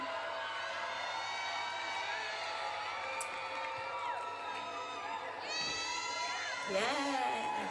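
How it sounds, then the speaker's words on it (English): A crowd at the front row of a World of Dance 2014 show featuring Les Twins cheers and screams continuously, with high whooping voices that surge louder near the end. "everyone's cheering"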